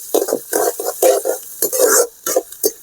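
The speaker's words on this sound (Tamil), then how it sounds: "வெங்காயம் நல்லா வதங்கிட்டு இருக்கு." Shallots and big onions sautéing in a pan for a Tamil prawn kurma, heard as a series of close, repeated stirring scrapes over a soft sizzle, with brief pauses between strokes.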